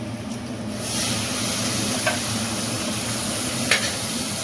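Onions frying slowly in a pan on low heat for peri peri chicken masala, a steady close sizzle that swells after the first second, with two faint scrapes of a spoon; no talking.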